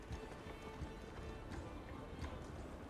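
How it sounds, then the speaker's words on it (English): A horse gallops in Assassin's Creed Valhalla, its rhythmic hoof clatter running continuously at moderate volume beneath a soft ambient bed. "Your horse is slow."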